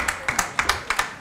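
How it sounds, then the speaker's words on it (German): Studio audience applause greeting talk show guests, a short burst of scattered hand claps, several distinct sharp claps at moderate loudness over a faint room background. "Das ist euer Applaus."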